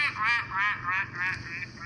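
A duck quacks in a series of about five nasal, buzzy calls. The calls are close and fairly loud, with a steady rhythm and no voices over them.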